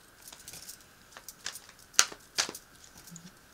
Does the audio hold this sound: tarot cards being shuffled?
yes